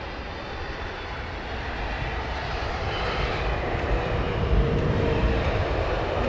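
A British Airways Boeing 777 airliner arriving on runway 27R at Heathrow, heard as a steady broadband engine roar that slowly swells louder, with no talk over it.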